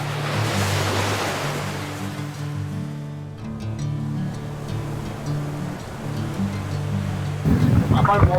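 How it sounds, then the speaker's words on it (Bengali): Ocean surf at Eden Beach in Pondicherry in the evening, waves washing in steadily with a light breeze, a louder crash rising near the end. "শুধু ঢেউয়ের আওয়াজ আর হালকা হাওয়া"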